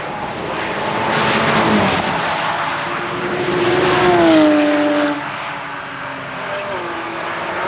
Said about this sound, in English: Ferrari going past again. He is really not taking it easy.